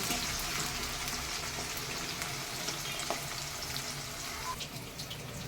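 Six or seven onions fry in hot oil for mutton biryani, a steady, loud, close crackling sizzle with occasional spatters and stirring scrapes.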